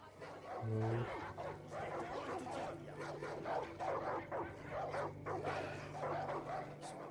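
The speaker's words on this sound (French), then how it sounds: "Combat de chiens." Dogs bark and snarl in a fight in the Far Cry 5 video game, repeated close barks and yips over game music and ambience, with a voice talking along.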